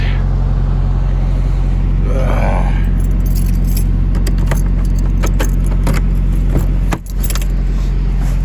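A semi truck is started in freezing cold, with a loud, steady engine rumble and drone throughout, a brief higher whine near the start, scattered clicks and rattles, and a short dip near the end.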